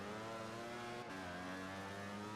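A racing motorcycle engine in MotoGP 15, ridden as Valentino Rossi at the German round, holds a steady high-revving whine with layered harmonics, loud and continuous, with no voices.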